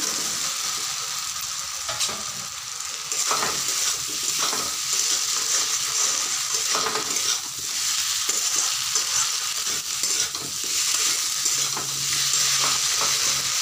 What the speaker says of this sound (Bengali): আমি এখন আলুগুলোকে দিয়ে দিব। মশলা থেকে তেল ছেড়ে দিয়েছে দেখো।